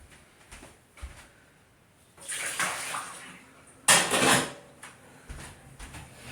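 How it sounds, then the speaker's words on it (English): Water poured out of a cooking pot into a sink while making a Thanksgiving meal, two bursts of splashing and rushing water between quiet handling clatter. "Now I'm just going to get rid of this water."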